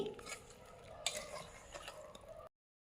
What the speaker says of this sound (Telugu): అల్లం వెల్లుల్లి పేస్ట్ వేసుకున్న తర్వాత మళ్ళీ ఒకసారి కలిపెట్టుకోవాలి